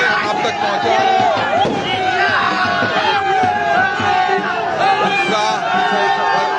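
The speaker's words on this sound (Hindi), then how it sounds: "और आतिशबाजी का दौर सब एक साथ चल रहा है वेनस मोड़ पर।" Street crowd celebrating India's World Cup win at Venus Mod, a dense, loud roar of many voices shouting and chattering, with fireworks faint or buried beneath the continuous babble.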